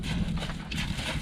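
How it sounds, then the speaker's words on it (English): A horse walking on a circle during a handling session, its hooves thudding dully and evenly under a dense, noisy background. "I just want this horse to walk"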